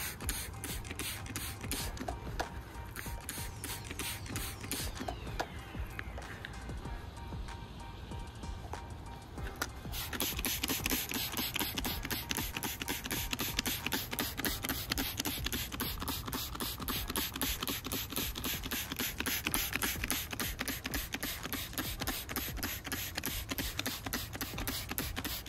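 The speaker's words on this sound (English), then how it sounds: "I'm just spraying down all of my citrus right now." Steady rapid mechanical pulsing of a sprayer pump spraying citrus trees, a continuous rattling hiss that grows louder partway through, with no talking.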